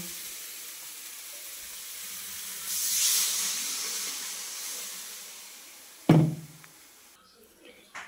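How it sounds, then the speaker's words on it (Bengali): Water poured into sizzling fried spice paste that has released its oil, a rising hiss and steam surge that swells, fades, then ends in a sharp knock. "এবার আমি জল ঢেলে দেব"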